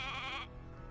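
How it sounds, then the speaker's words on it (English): A sheep in the fantasy role-playing game Divinity: Original Sin 2 bleats once, a loud, wavering cry lasting about half a second, then quiet game ambience. "Okay, there's a sheep."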